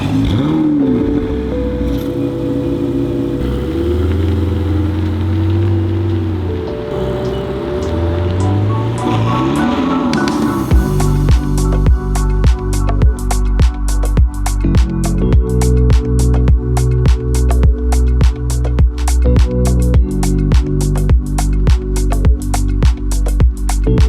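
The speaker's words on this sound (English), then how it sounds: "we're just about done driving on the toll road" A Ferrari 488 and a Ferrari Portofino cruise on a toll road, their engines surging and shifting with rising sweeps before rhythmic pounding music takes over and buries the engine sound.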